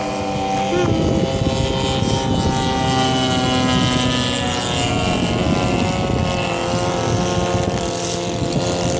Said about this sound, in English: These awesome planes over here.